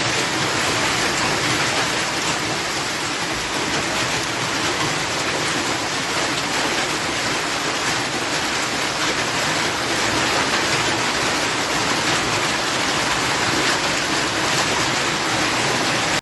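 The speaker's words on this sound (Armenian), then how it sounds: "Ուժեղ կարկուտ է տեղացել նաև Գավառում" Heavy hail falling in Gavar makes a dense, steady roar of impacts that continues without pause for the whole stretch, loud and close, with no voices.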